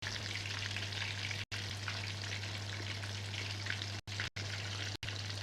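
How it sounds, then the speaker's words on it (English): Oil bubbles and sizzles steadily while food fries at home, a dense continuous crackle with a low steady hum beneath it, broken by a few very short gaps, and no talking. "As you can hear the bubbling of the oil."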